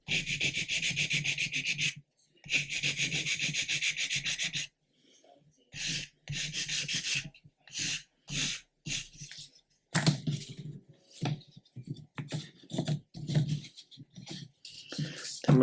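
A 1/400 scale Queen Mary 2 model ship hull being sanded with 220 grit abrasive, rhythmic close rasping strokes in bursts, some long and steady, others short and choppy, separated by brief silences.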